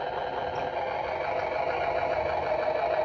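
A diecast toy transport truck's electronic engine sound runs steadily, a buzzy simulated idle that moves into gear, close-up and continuous with no voices.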